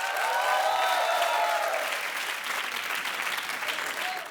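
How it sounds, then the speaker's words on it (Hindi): An audience at a live show breaks into loud, sustained applause and cheering, with a dense wash of clapping that fades slightly toward the end, and voices call out early on. "एक बार जोरदार तालियां हो जाए अजहर की पूरी टीम के लिए"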